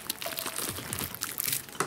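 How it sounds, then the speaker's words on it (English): Homemade slime being stretched and torn by hand, giving a run of soft crinkly, crackling tears and wet snaps heard up close with no talk. "That's the sound of slime ripping."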